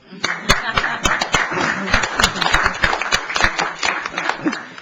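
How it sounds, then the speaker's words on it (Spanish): An audience member at a Spanish-language panel discussion on borders claps steadily, sharp close hand claps in an irregular run lasting the whole stretch. "Jorge Carrillo quiere aplaudir, creo"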